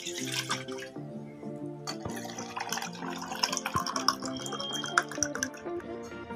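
Water is poured into a bowl before heating to make chocolate ice cream, a close splashing trickle under soft music.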